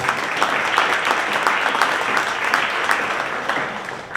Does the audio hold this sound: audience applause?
yes